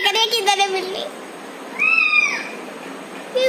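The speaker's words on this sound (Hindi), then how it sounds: "वो ढूंढ रही है कौन मियाँ मियाँ कर रहा है" A cat meowing sound effect plays from a speaker, giving several loud, close meows with rising and falling pitch separated by short pauses.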